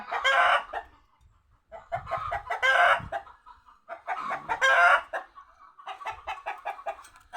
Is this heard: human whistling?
no